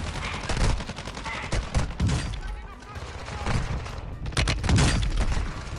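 Warzone 2 gunfire arrives in dense bursts of rapid shots with booming impacts, loud and close, over excited shouting voices.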